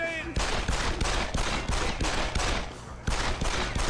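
Heavy sustained video-game gunfire, loud overlapping bursts and volleys repeating in waves with a short lull near the end before another burst, no talking over it.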